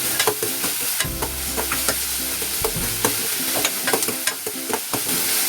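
Onions cook with salt in a pan under a busy, close sizzle, while frequent quick spatula scrapes and taps rattle against the metal throughout.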